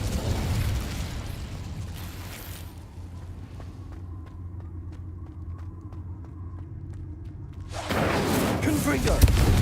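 A Confringo blast spell from the Hogwarts Legacy video game erupts in a loud, rumbling burst at the start, followed by a quieter humming stretch, then another loud explosive roar near the end.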